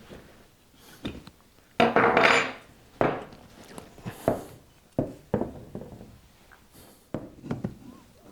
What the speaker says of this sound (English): I may just use screwdrivers and hope for the best.